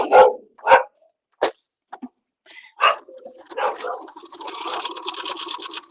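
A dog named Apollo barking at a UPS delivery man: several sharp, close, loud barks spaced apart, followed by a longer stretch of whining, yelping vocalizing, with no talking.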